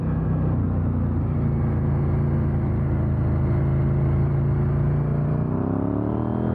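A KTM 890 Duke R motorcycle with Michelin Super Cup tyres rides steadily, its engine a loud, continuous close-up drone that shifts pitch toward the end as the revs change, with no talking.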